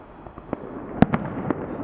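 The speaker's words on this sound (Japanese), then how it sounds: "なんか急に花火が始まりました。" Distant fireworks over Sydney Harbour, heard from a park, popping and bursting a few times, sharp cracks over a steady low background hum, no voices.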